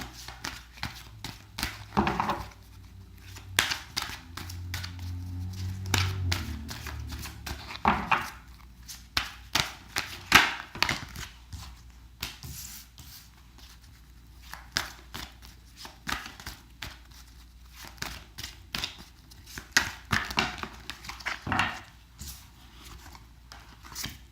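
Tarot cards being shuffled and handled during a reading, with soft riffling and flicking bursts repeating irregularly throughout, close and fairly quiet, with brief stretches of a faint voice.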